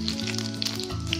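Three dried red chillies and five-spice seeds hitting hot oil in a pan, giving a close, steady crackling sizzle that lasts the whole brief moment.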